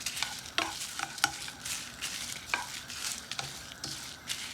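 Whole coriander seeds and white cumin dry roasting in a pan, a faint dry rustle and scrape with sharp irregular clicks as the spices are stirred, close by with no talk.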